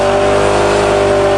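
A 20-ton bulldozer's diesel engine held at high revs, a loud, close, steady mechanical roar with a strong sustained drone and no speech over it.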